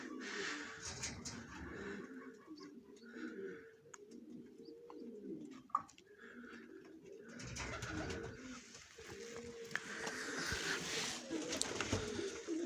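Soft, low cooing of white homing pigeons repeating in rolling phrases, with occasional faint chirps and rustling nearby.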